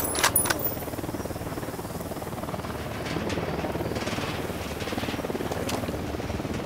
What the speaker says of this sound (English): We'll need that chopper.